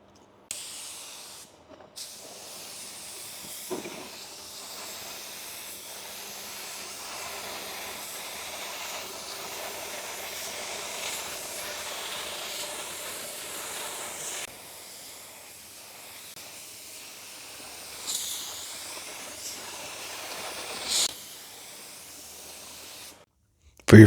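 Paint spray gun at about 18 psi laying a light base coat onto a car bumper, a steady soft hiss lasting most of the time with short breaks between passes and brief trigger clicks.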